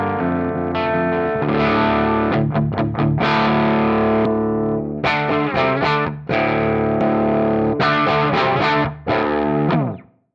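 Electric guitar through a Jeds Peds The Hat pedal with its gain turned all the way down, giving a loud low-gain overdrive as sustained chords ring out with a few short breaks, and no voices.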